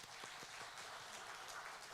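A church congregation applauds together during a Sunday service, a soft, steady wash of many hands clapping heard from some distance.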